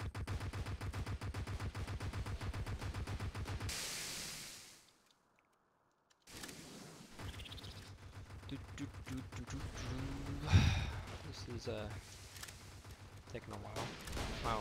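Rockets and gunfire pound a building during a Halloween event in a video game, a dense rattling fusillade that cuts out for about two seconds, then resumes with a loud blast near the ten-second mark, all fairly close.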